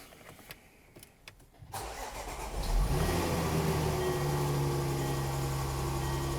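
A 2014 Range Rover 3.0L engine cranks and catches after a few quiet clicks, then settles into a smooth, steady idle that holds evenly close to the microphone.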